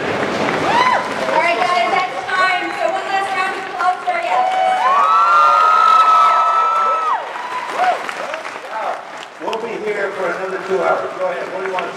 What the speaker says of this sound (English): So one last round of applause for